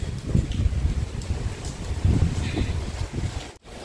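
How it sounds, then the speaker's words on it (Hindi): Gusting wind roars against the microphone with a steady wash of rain, loud and continuous, with a brief dropout near the end. "ठंडी ठंडी हवा चल रहे छोटी बारिश आ रही है तेज़ बारिश आ गई"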